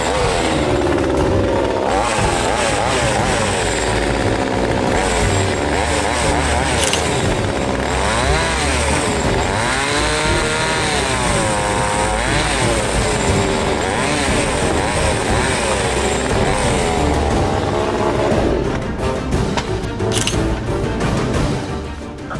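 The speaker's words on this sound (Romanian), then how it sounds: "se folosește de o drujbă pentru a tăia tetiera unui Rolls-Royce" A loud, steady chainsaw buzz runs throughout as it cuts into a Rolls-Royce car headrest, its pitch rising and dipping as it bites into material, with no pauses.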